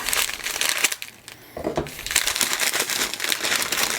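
A cardboard subscription box is cut open, giving close crinkling, scraping and tearing bursts that pause briefly then resume in irregular crackles.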